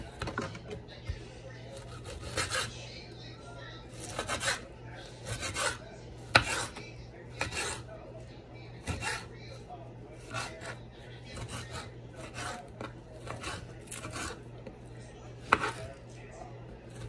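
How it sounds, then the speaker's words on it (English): A knife chops tomatoes for a salad in steady, sharp cuts against a board, each stroke crisp and close, with occasional pauses between bursts. "Cut me a few tomatoes to put in the salad."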